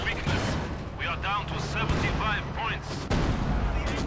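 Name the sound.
artillery gun firing in video game Company of Heroes 2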